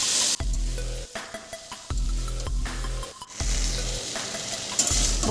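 Vegetables sautéed in a pan with salt and turmeric, soft sizzling broken up by repeated scraping and stirring strokes of a utensil against the pan, fairly quiet and close.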